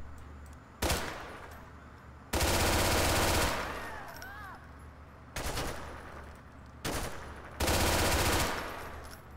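M4 rifle fire in GTA 4 comes in four long, loud automatic bursts separated by short pauses, with no talking over the gunfire.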